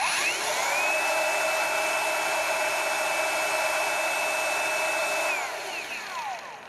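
Vitals ALs 18125P cordless angle grinder, repaired after a controller fault, spinning up to a steady high-pitched whine, holding it loud and close for about five seconds, then winding down as the motor coasts to a stop.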